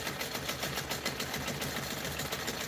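A sewing machine stitching a pebble quilting fill runs at a slow, steady speed, its needle clatter forming an even rhythmic texture close by with no talk.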